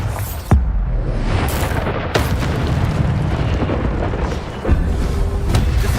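Explosion spells in the Hogwarts Legacy video game blast in a loud, dense battle mix, with heavy booms landing roughly every couple of seconds over a constant rumbling roar.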